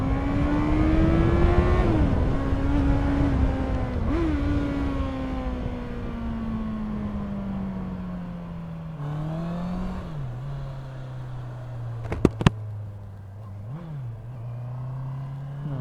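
A Honda CBR650R motorcycle's four-cylinder engine holds a high, singing rev near 10,000 rpm, with the pitch slowly falling and briefly jumping at gear changes while riding at speed, no talk over it.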